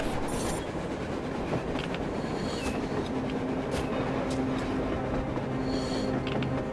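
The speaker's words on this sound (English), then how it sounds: "A train! A damn train on the surface!" A train rumbles past in the Metro Exodus video game, a loud steady roar with metallic clattering and squealing wheels throughout, no voices over it.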